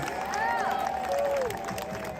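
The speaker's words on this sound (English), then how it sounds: "Let's give a big round of applause to Council Member Speaker Adrienne Adams" An outdoor crowd at a St. Patrick's Day parade in Queens applauds and cheers for Council Speaker Adrienne Adams, steady clapping mixed with whistles and voices.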